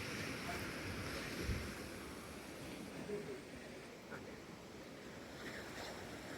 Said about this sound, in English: waves are smashing up against it.